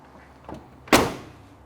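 A soft click followed by a single solid thump as the door of a 1970 Ford Mustang Mach 1 shuts, close by and brief, with quiet around it.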